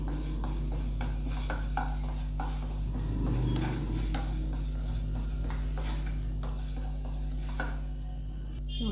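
Urad dal roasting in a pan for Andhra-style chutney powder, stirred steadily with a metal spoon that scrapes and clinks against the pan. A soft sizzle runs underneath, and the scraping is close and continuous.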